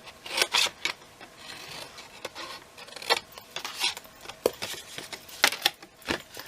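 Scissors cut and score card for a candle gift box, producing a series of short crisp snips and scrapes at close range, coming in irregular bursts with quiet gaps between them and no talking.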